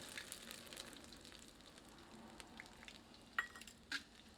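Whole red chillies and cumin seeds, then chopped ginger, fry in hot oil for Punjabi dal makhani, giving a faint, steady sizzle with a couple of light utensil clinks near the end.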